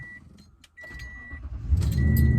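A 2014 Toyota Tundra with 122k miles, knock sensor fault, cranks on a start attempt: a brief chime and key rattle, then a loud close rising starter churn and engine rumble building toward the end.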